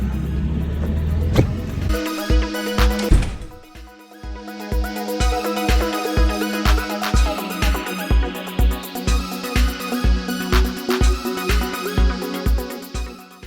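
Outboard motor on a Catalina 22 sailboat, idling in neutral yet revving up on its own. It gives a loud, steady rhythmic chug with a throbbing low pulse that swells and surges, heard close and alone.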